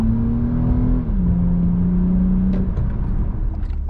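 Bagged car under full throttle merging onto a highway, a loud, steady engine drone with a whirring tone that drops slightly in pitch as it shifts, no talk.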